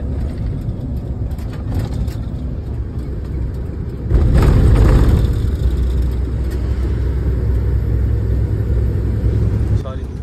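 Car driving at night on a road near the Assam border, a steady engine and road rumble throughout that grows louder and rougher for a stretch midway.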